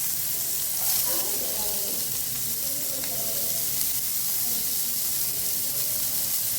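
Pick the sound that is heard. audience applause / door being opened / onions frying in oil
onions frying in oil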